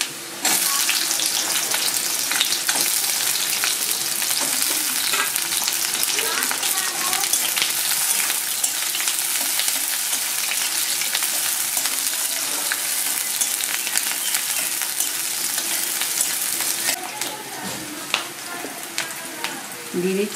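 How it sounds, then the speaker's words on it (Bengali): Onion frying with garlic and nigella seeds in mustard oil in a kadai gives a close, loud, continuous sizzle with occasional stirring scrapes, easing slightly toward the end. "এবার দিয়ে দেবো আমি পেঁয়াজ।"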